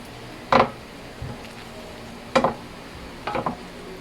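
Menudo meat and vegetables being stirred in a small pan, three or four distinct scraping, clattering strokes of a utensil spaced apart over a soft sizzle, close and fairly quiet.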